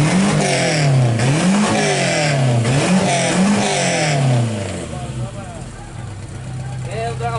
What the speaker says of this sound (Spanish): Vamos a ver el Ford Capri en marcha.